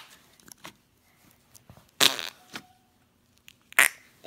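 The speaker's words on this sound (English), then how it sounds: "It makes the loudest fart noises ever." Loud wet squelchy bursts from slime being squeezed, like fart noises, come in a few short separate blasts with quiet gaps between them and no talking.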